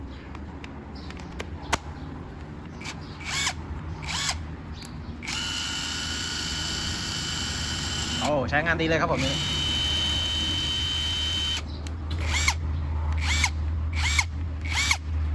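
An OSUKA 128V brushless cordless impact wrench spins up in two sustained bursts of high whining motor with rattling hammer action, between short trigger blips and someone talking.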